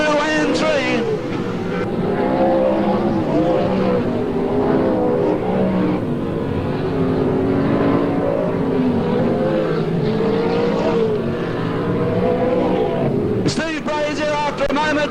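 Race cars roar around a New South Wales sports sedan championship final in 1986, engines loud and continuous as the cars pass through the turns, with a commentator talking excitedly over the noise.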